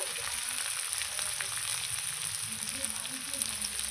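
Onions frying in oil with whole garam masala for a mutton curry, a steady close crackling sizzle running throughout with faint low background noise.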